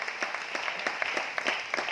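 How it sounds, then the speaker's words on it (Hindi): An audience in a lecture hall gives a burst of applause, a dense, steady patter of many hands clapping close by for about two seconds, with no voices over it. "ताली जोरदार वाली बजा लीजिए, आप पहुंच सकते हैं सर"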